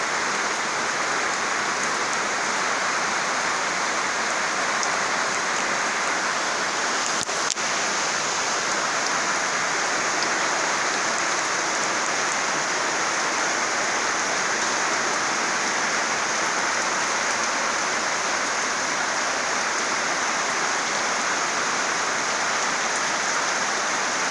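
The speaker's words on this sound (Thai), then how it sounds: "ฝนตกหนัก" Heavy rain pours steadily over rice fields in Sakon Nakhon, a dense, constant hiss that holds at an even loudness for the whole stretch, with no voices over it.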